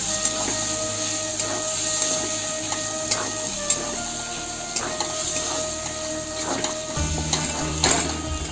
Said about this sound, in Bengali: এখন আমি এই যে ঢেমসিগুলো যে ভেজে রাখছি এই ঢেমসি কটা দিয়ে ভালো করে কষাই নিই